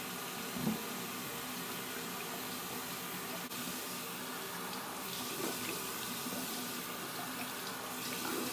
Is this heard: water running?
yes